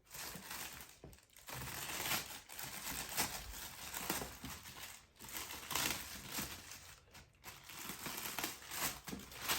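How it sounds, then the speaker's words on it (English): Plastic bag on a Greenworks 16-inch corded electric mower being ripped open, heard as close, sustained crinkling and tearing of plastic with brief pauses, fairly quiet and with no talking. "How did I get this bag on there, though? Sometimes you just gotta rip it."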